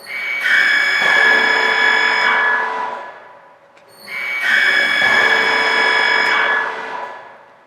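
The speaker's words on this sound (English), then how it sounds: "Start the pump and start the mixer. Now, if I'm pressing any button, the machine starts." A Duo-Mix mixer machine and its pump run loudly and steadily with a strong motor whine, in two long bursts separated by a brief stop.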